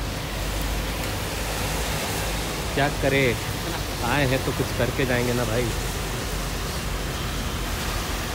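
Steady, dense hiss of heavy rain pours throughout on the way to Pashupatinath Temple in Nepal, with a person talking briefly in the middle over the downpour.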